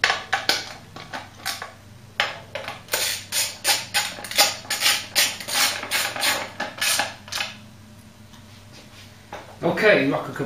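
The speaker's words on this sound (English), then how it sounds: "So drop that cam cover back on and bolt it down." A Ford Cortina Mk3 cam cover with a rubber gasket being bolted down: a close run of quick metallic ratchet clicks in bursts, pausing near the end before a brief clatter.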